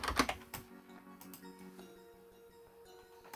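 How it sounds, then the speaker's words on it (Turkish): Quiet typing on a computer keyboard at a PC: a short cluster of key clicks, louder at the start, then sparse faint taps over low background noise. "Ben buraya böyle away from keyboard yazıyorum"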